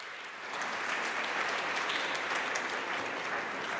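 An audience at a panel session on the human rights of girls and women breaks into sustained applause, swelling after a brief start and holding as a dense, even wash of clapping.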